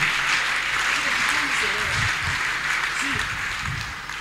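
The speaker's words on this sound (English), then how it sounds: "That clapping was not enough for Jesus Christ." Steady applause from a church congregation sounds throughout, a dense wash of clapping with faint voices and low tones mixed in, fading slightly at the end.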